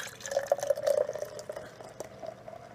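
Natty Rush Blue Frostbite beer, poured from a 25-ounce can into a glass, runs with a steady, close trickling and bubbling splash for a few seconds before it thins out, with no voices.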